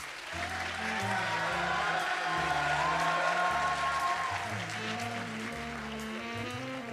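An audience claps at the closing ceremony of a film festival, a continuous, moderately loud wash of applause with music playing underneath.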